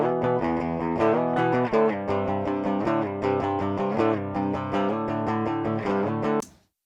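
Double-tracked electric guitar on a Gibson bridge pickup, left channel of a post-rock track, playing a loud, sustained run of thick chords that shift steadily with no voices, then cutting off sharply at the end.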